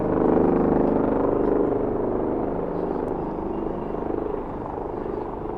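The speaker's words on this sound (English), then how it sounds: "The choppers are looking for me." A helicopter hovers over downtown Toronto on an evening, a loud steady rotor drone with a rapid chopping pulse that fills the whole stretch and eases slightly toward the end.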